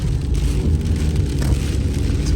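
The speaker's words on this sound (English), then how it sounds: "Look at this crazy weather that we got going on here. Crazy rain." Heavy rain with strong wind during a tornado alarm, a dense, steady roar of downpour and gusts that stays loud and unbroken throughout, with no talk.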